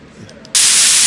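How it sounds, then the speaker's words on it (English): Radio static sound effect previewed in RPG Maker MZ, a quiet low murmur that suddenly bursts into loud, harsh, hissing static and holds steadily to the end. "We need something that resembles something that sounds like radio static."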